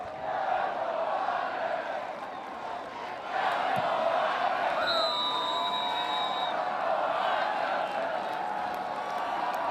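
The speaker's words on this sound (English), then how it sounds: "the folks in green and gold, a few thousand of them that made the trip down from Fargo, letting their voices be heard" A stadium crowd at a North Dakota State versus South Dakota State college football game, with visiting fans in green and gold, keeps up a sustained roar of cheers and whoops, swelling midway and holding loud to the end.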